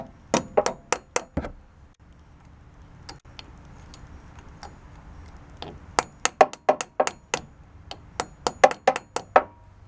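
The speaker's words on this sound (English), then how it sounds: "Y'all forgive me for using a carpenter's hammer on it." A carpenter's hammer taps a snap ring onto the clutch of a Honda Odyssey AC compressor, giving sharp metallic clinks in quick bursts, a flurry at the start, a pause, then a faster run of close, bright strikes.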